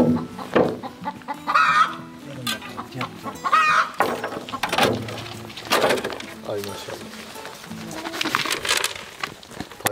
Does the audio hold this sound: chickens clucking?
yes